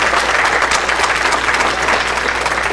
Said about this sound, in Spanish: Quiero que por favor les regalen nuevamente un aplauso a Alan, Alejandro, Cristian, Ita, Octavio,